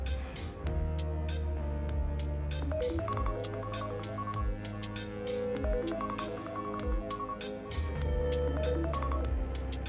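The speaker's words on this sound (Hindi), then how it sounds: "अभी कॉल भी आएगा।" A phone rings with an incoming call triggered by an Arduino SIM800L emergency alert system, a steady repeating ringtone that plays continuously and loudly throughout, with no talking.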